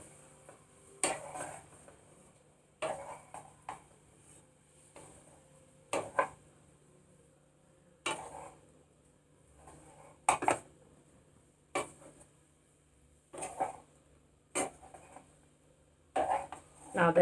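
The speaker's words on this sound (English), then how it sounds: "And now stir the veggies and the pasta well" Vegetables and pasta stirred in a pan, with a spoon clinking and scraping against the metal in short bursts about every one to two seconds over a quiet background.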